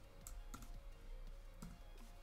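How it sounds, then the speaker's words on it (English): Keys clack on a computer keyboard while a command is typed on a Commodore 64, a quick, faint series of close taps in an uneven rhythm. "we type the command load"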